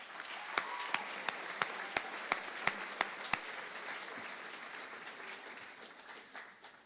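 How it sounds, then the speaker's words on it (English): Applause for teachers at a high school awards ceremony: a soft, scattered round with several sharp individual claps standing out at first, then settling into a faint, thinning patter. "let's give a great round of applause to our teachers"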